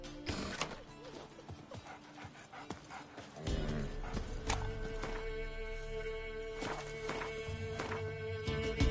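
Roach the horse galloping in The Witcher 3: rapid rhythmic clip-clop hoofbeats, joined by creaking tack and layered game music and ambience, with a heavier surge of hooves partway through.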